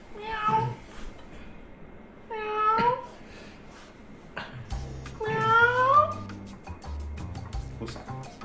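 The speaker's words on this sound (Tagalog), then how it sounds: "Oo nga, pusa." A cat meows three times, drawn-out and fairly close, with quiet low voices murmuring in the background.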